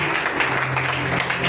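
A church congregation applauds in a dense, continuous wash of clapping from many hands, loud and sustained with no gaps.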